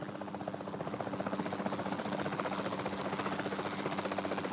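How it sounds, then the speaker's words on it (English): Capture team helicopter in the video game Jurassic World Evolution 2: a steady, rapid rotor chop with an engine whine, constant and fairly loud with no pauses. "Then the sensible thing is to take a capture team helicopter."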